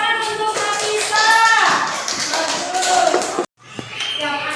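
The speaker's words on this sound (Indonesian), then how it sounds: "tepuk tangan untuk Nafisa." Schoolchildren clap together in a classroom, a dense continuous patter of many small hands filling the room for about three seconds before a sudden brief cutoff, then quieter scattered claps and voices resume.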